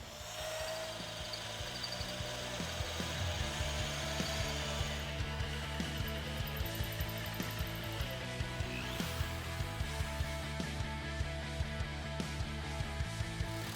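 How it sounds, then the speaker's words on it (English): Holes are drilled through a Chevy C10 frame for a C-notch kit install, a power drill whining steadily and loudly for the whole stretch with some shifting pitch and clanking underneath. "getting ready to drill the remaining holes to fully finish the C-notch install"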